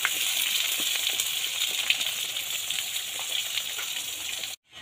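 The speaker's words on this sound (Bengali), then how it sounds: "এখানে মাংসের আলু এইবার ভাজা হবে।" Potato pieces for a meat dish frying in a pan on a home kitchen stove, giving a steady, close hiss of sizzling oil that runs evenly before cutting off abruptly at the end.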